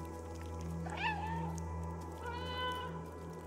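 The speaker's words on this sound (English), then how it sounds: "Oh, they're all meowing." Cats meowing together in the video game Stray, two drawn-out, rising and falling meows about a second apart, clear and near over a humming ambient game background.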